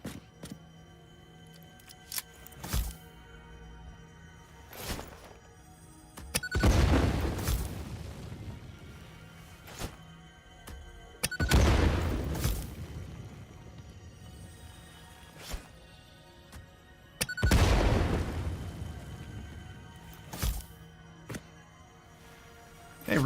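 Thrown explosives detonating in a video game: three deep, rumbling booms spaced several seconds apart, each swelling and fading, with smaller pops and clicks between them.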